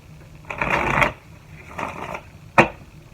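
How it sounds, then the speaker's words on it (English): A deck of tarot cards riffled and shuffled by hand in a quiet room, two soft papery bursts followed by a single sharp snap of the cards. "So let's shuffle the deck."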